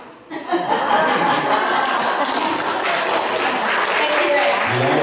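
An audience at a community theater show at the Strawberry Playhouse claps after a joke, with dense, sustained applause rising quickly and mixed with scattered chuckles and indistinct voices.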